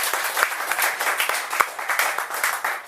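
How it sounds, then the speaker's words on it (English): An audience at a poetry open-mic night applauds a poet, a brief burst of steady clapping from a small crowd, moderately close. "Another big round of applause for Emily."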